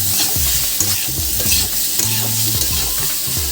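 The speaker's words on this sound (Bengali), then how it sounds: "নুন হলুদটা দিয়েও আমি আর একটু ভেজে নিলাম" A fish curry base of salt and turmeric fries in a pan with a loud, close sizzle, broken by repeated scraping stirs that come in an irregular rhythm, and no voices.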